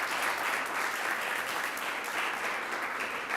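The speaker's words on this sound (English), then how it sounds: "Let's give them all a round of applause" Steady, dense applause from an audience at an award ceremony, sustained evenly and fairly close throughout.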